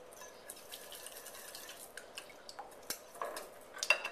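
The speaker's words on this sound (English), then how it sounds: "I'm just going to whisk that real quick together." A teaspoon each of salt and pepper is whisked into a breakfast casserole mixture, giving faint wet clinks and quick taps of the whisk against the bowl, growing slightly louder toward the end.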